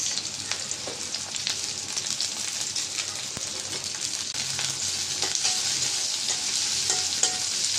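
Chopped onion and green chili fry in hot oil, a steady broad sizzle with scattered crackles and occasional stirring scrapes, close and fairly loud throughout without any talking.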